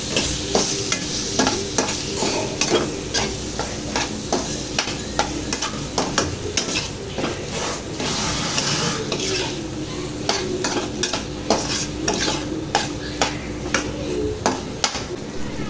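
Cleaned prawns stir-fry in a pan, with a constant loud sizzle punctuated by rapid, repeated scrapes and clinks of a spatula against the metal throughout.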